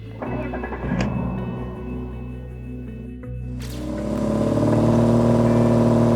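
A BMW E36 325i convertible with automatic transmission driving on the road, steady engine drone with a rising rev and louder acceleration toward the end, heard from inside the car.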